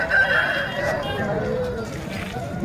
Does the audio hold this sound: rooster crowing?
yes